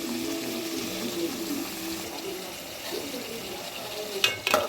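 Tomatoes sautéing in a pan for a dried-fish and field-bean curry give a steady soft sizzle with occasional stirring scrapes, and a couple of sharper knocks near the end.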